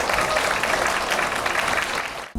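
A lecture audience in Sejong claps loudly to welcome the Buddhist nun Seonjae, known for temple food, a dense steady burst of applause with a crowd murmur that stops abruptly near the end.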